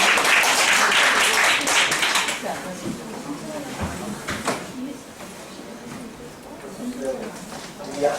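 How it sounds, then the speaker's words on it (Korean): Professors at a flipped-learning teaching workshop clap for one another, a loud burst of group applause over the first two seconds that thins into scattered claps under murmuring voices. "서로 박수 한번 주겠습니다."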